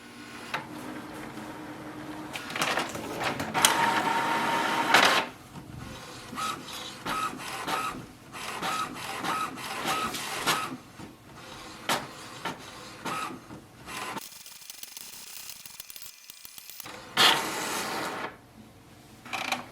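An HP Envy 6155e inkjet printer prints an alignment page, whirring and clicking as the print head shuttles back and forth in repeated passes, with mechanical pauses and a quieter stretch near the end.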